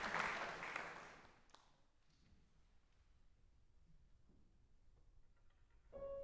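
A recorded crowd applause played back in an audio editor: dense clapping that fades out over about a second, then quiet room tone, with a faint burst of noise at the end.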